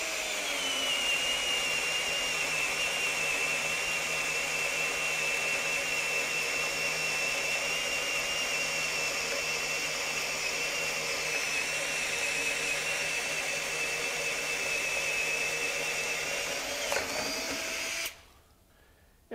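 A Ridgid R96021 drill driver pulls a bit steadily through wood, giving a long, even high-pitched whine and grind that holds for many seconds and then stops abruptly near the end.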